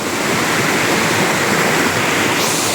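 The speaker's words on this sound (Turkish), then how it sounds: "Coşuyor burada sular arkadaşlar." Küp Waterfall in Aladağ, Adana, roars as a loud, dense and constant rush of falling water, close by and steady with no talk over it.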